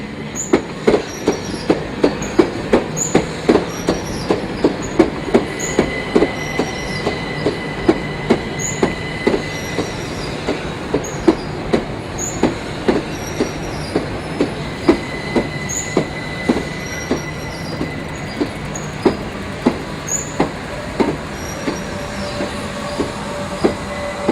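An Electrostar third-rail electric multiple unit train runs past on Southern England's DC network, loud and near, with a steady clickety-clack of wheels over rail joints, a rumbling body and occasional high wheel squeal.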